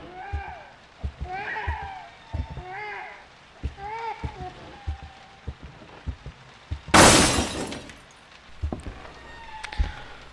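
Partway through, a window falls and shatters in the horror game P.T., a sudden loud crash of breaking glass over a voiced commentary, followed by a few faint scattered tinkles.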